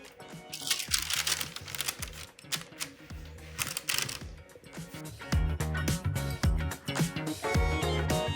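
Copper tape peels up from a DIY lamp surface in crinkly, crackling bursts and tearing rasps, close and irregular, with brief quiet gaps between the strips of noise.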